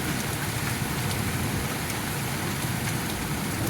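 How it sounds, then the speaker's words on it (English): Steady rain falls during a hailstorm in Cardston, Alberta, a dense, even wash of drops on surfaces throughout, continuous and moderately loud with no breaks. "It's raining now. Okay, it's raining."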